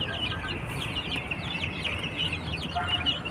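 Farm chickens cluck and chatter while feeding, a close, busy flock of overlapping soft calls that never pauses.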